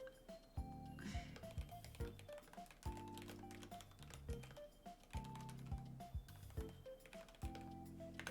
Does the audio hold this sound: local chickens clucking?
no